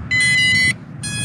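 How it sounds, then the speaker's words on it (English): Electronic beeps from an MJX Bugs B7 GPS camera drone transmitter as it connects: one long, loud, high tone, then a second beep after a short gap, with nothing else heard. "you heard a beep from the transmitter"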